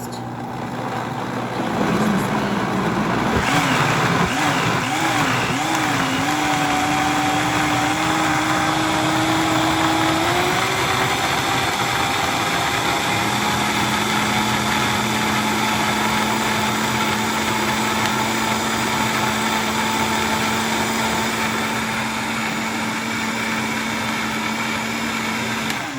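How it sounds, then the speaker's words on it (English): A blender purees gazpacho with a loud, close, continuous motor whine that starts slow, then changes speed in distinct steps, its pitch shifting and holding steady for long stretches. "Now we're gonna take that and blend it. We're gonna go slow at first."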